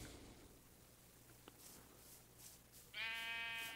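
In the video game Minecraft, a sheep lets out a single clear, nasal bleat near the end, after a few seconds of quiet, hissy background ambience.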